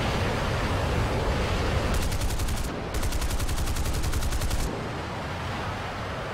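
Automatic gunfire in a video game, a dense rapid burst of shots over a loud rumbling wash of game noise, pausing briefly and then firing again before cutting off, with the game noise continuing alone.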